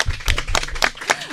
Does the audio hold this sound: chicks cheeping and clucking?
no